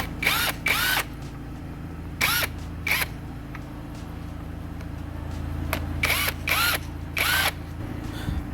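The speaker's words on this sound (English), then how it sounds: "There we go, 16mm socket ratchet extension." A ratchet with a 16mm socket and extension works drive shaft nuts on a 2015 VW Passat CC, giving short bursts of rapid clicking that repeat in clusters over a steady low workshop hum.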